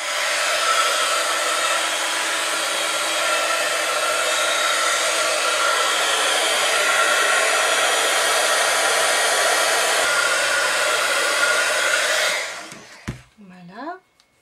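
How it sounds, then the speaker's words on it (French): A heat gun heating embossing powder on a card, blowing a loud, steady, close roar for about twelve seconds before switching off, followed by a few faint handling sounds. "je vais chauffer avec mon pistolet chauffant"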